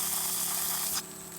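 A battery-powered 12V garden water sprayer jets water outdoors with a steady, close hiss that cuts off abruptly about two-thirds of the way through, leaving a quieter tone.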